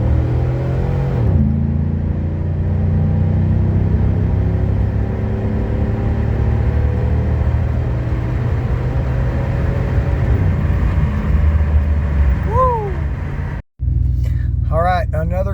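A 2005 Chevy Silverado pickup with 4.10 rear gears, new rear tires and a limited-slip differential launching hard, its engine droning and climbing in pitch through a long pull before a shift, loud and close inside the cab, ending with a brief cut.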